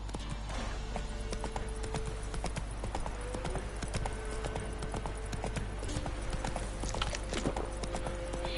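Roach, a horse in The Witcher 3, galloping with steady rapid hoofbeats over ambient game sound, with a brief whinny audible in the mix.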